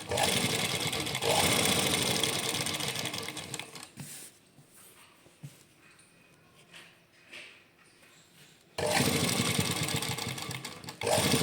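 Sewing machine stitching a sleeve joint on garment fabric, running in loud steady bursts at the start and end with a quieter stretch of handling noises and pauses in between, close and without talk.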